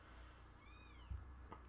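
A kitten meows faintly in the background, one brief rising-and-falling cry followed by a soft thump, quiet and distant.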